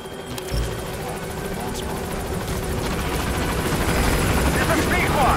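A helicopter arrives at a landing zone in Metal Gear Solid V, its rotor thudding loudly and steadily throughout, with radio-style talk heard over the engine.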